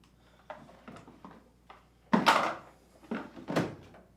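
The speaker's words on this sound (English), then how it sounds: "Then reinstall the detergent dispenser's drawer." An LG Kenmore washer's detergent dispenser drawer being slid and pushed back into place, a series of close plastic knocks and thuds, the loudest near the end, with no voices.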